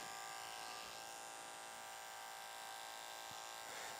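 Electric clipper running through curly hair during a high fade, a steady close-up motor buzz that barely varies, with faint scraping changes as the blade glides along the head.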